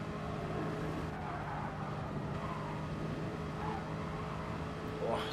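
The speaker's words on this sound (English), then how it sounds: "There he goes, sideways out of the chicane" A race car slides sideways out of a chicane, engine droning with a faint rising tyre squeal under steady commentary-style talk, the whole blend fairly loud and continuous.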